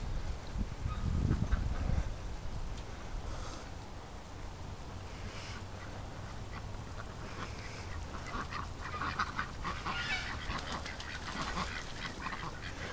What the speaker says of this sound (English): The ducks, the geese, they're loving this creek.